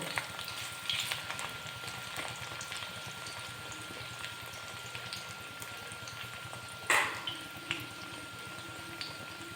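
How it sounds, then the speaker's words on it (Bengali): Coriander-leaf and onion pakoras frying in hot oil, a steady close sizzle and crackle with one louder burst of spatter partway through, and no talk. "আরেকটি সাইড উল্টে ভেজে নেব"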